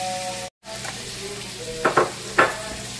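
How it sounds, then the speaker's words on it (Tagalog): Garlic sizzles steadily in a hot pan as the base for goat feet balbacua, a continuous frying hiss broken by a brief silent gap and a few sharper stirring scrapes near the end. "Nagigisa na tayo."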